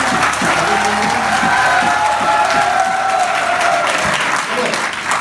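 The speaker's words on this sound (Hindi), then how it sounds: "थोड़ा सा तालियां बजाते हैं" An audience at a talk on Ayurveda and colostrum immunity breaks into steady applause, a dense continuous clapping from a sizeable crowd with faint voices mixed underneath.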